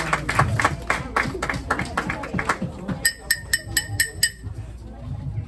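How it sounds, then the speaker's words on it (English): A congregation at a Baptist church service claps for a speaker. Brief, moderately close applause is heard, mixed with light clinking taps and voices. "please give her a round of applause"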